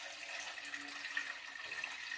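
Goat milk pouring slowly into a cooking pot on a burner stove, a steady close liquid trickle and splash running evenly throughout with no voices.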